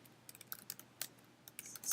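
Quick, light keystrokes on a computer keyboard entering a search, irregular clusters of soft clicks close by in a quiet room.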